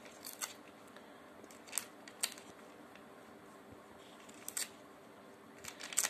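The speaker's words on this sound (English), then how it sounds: "take the paper and tear into small pieces like this." Paper torn by hand into small pieces for a kindergarten tearing-and-pasting craft, heard as short, sharp rips scattered irregularly over a quiet room background with no talking.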